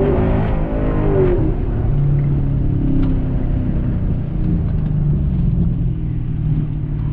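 A Camaro V8 rumbles loudly and close during a street race, a deep throbbing engine drone that revs and shifts pitch early, then holds a steady low growl.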